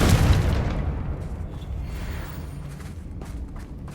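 A Confringo spell explosion in Hogwarts Legacy: a single loud, close boom with a burst at the start, fading into a rumbling decay.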